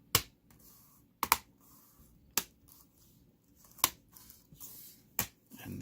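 A Sony Vaio laptop keyboard is pressed down into its bay during a keyboard replacement, giving five or six sharp, separate plastic clicks and snaps spaced about a second apart, close and crisp against a quiet background.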